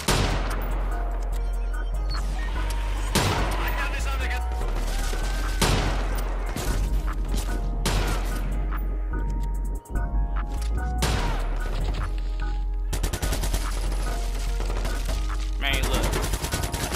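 Gunfire shootout in the Watch Dogs 2 video game set in the woods: loud, dense bursts of rapid shots and machine-gun fire, nearly continuous with a brief pause, under a voice.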